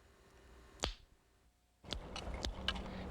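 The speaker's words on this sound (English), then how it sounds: "For me, the signal is a tongue click." Sharp human tongue clicks used for echolocation by a blind person, one isolated crisp click followed after a pause by a quicker run of three or four clicks, close and fairly loud against a quiet room.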